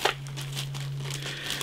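Crinkling plastic bag holding model kit instructions, close and crisp, with irregular rustles and crackles as it is handled, over a faint steady electrical hum.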